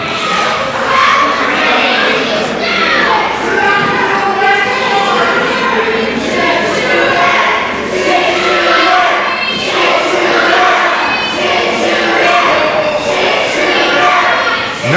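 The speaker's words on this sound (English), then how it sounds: "Not sure what the crowd is chanting," Wrestling crowd at a live event chants in loud, rhythmic waves across the whole stretch, a dense wall of voices with shouts and cheers rising and falling.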